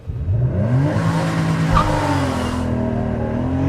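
A 2013 Porsche Boxster S launching hard under launch control, its engine roaring loud and close as it revs and pulls through the gears in one sustained, rising burst of acceleration.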